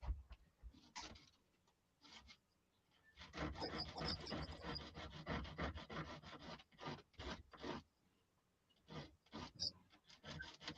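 Hand sanding a small wooden piece with sandpaper in a workshop, quiet close rasping strokes in bursts, with a longer continuous run in the middle and short scrubs around it.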